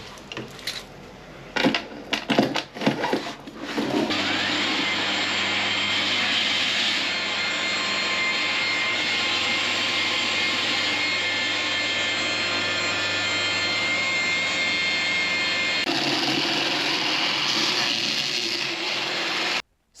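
A drain cleaning machine runs its spinning cable along a drain line from a ladies' restroom sink, a loud steady whirring roar after a few clattering knocks, continuing unbroken until it stops abruptly.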